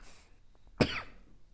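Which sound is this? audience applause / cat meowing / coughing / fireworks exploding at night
coughing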